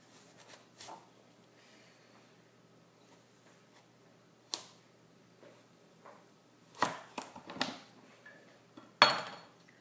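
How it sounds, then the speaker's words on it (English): A knife cutting a ripe fruit in half in a kitchen, heard as a series of sharp, separate cracks and taps against a cutting board, spaced irregularly, with the clearest hits toward the end. "Let me just cut it in half."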